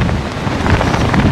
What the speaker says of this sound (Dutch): Er is geen wind, er is storm.